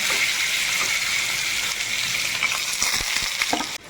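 Jackfruit paste hits hot oil with black cumin and cumin seeds and fries with a loud, continuous sizzle, close by, with scattered sharp pops and crackles toward the end.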